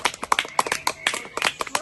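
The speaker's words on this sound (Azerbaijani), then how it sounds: "Afərin, alqışlayaq" A small group of sixth-grade schoolchildren clapping during a quiz game on a picnic, quick uneven claps in bursts, close by, with voices mixed in.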